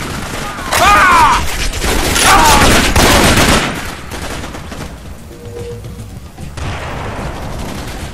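Gunfire aimed at the player in a jungle combat video game, loud sustained bursts of shots and booms close by, with voices and effects layered over the barrage.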